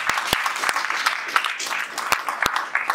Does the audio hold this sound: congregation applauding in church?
yes